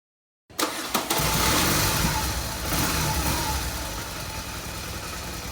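Motorcycle engine, serviced on a long-distance ride, cranks with a couple of sharp catches, then settles into a loud, steady running rumble that eases slightly toward the end.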